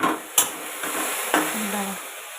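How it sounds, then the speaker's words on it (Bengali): Okra fries in a pan, a soft continuous sizzle broken by a few sharp clinks and scrapes of stirring, heard up close with no talking. "এই যে ঢ্যাঁড়স ভাজা হচ্ছে।"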